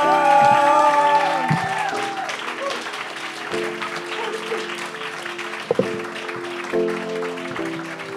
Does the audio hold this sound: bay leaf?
no